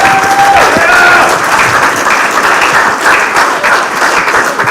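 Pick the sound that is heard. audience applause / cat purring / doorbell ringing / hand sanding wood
audience applause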